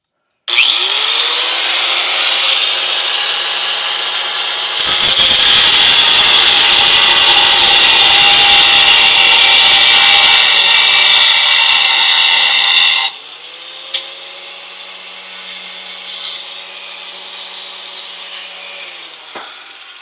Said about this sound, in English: So we're just gonna grind them off.